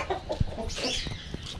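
Chickens on a home terrace clucking softly in short, close bursts, with some other bird chatter in the background.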